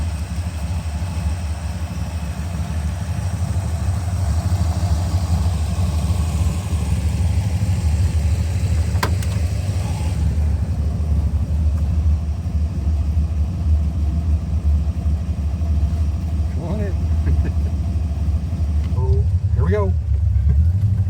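A 1932 Ford pickup truck rumbles along at driving speed, a loud steady low engine drone from inside the cab, with brief voices heard near the end.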